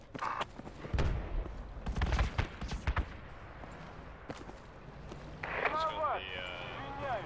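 Gunfire in the military shooter Project Reality: a few sharp rifle bursts and single shots at close range, followed by footsteps and gear movement, with a radio-like voice chirp near the end.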